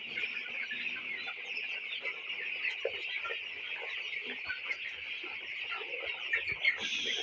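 Seventeen-day-old broiler chickens cluck and cheep together in a poultry shed, a continuous dense chorus at moderate distance with no voices over it.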